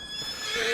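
A horse in Farming Simulator 25 on a Louisiana farm whinnies once, a close, fairly loud wavering neigh that lasts the whole short moment with no talk over it.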